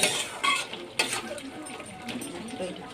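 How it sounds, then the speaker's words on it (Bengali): Utensil scraping and stirring in a pan as ground spice is mixed into niramish sukto vegetable curry, a soft gentle sizzle underneath with a few sharper clinks, fairly quiet overall. "এবার এটাকে আমি ভালো করে নেড়ে নিচ্ছি"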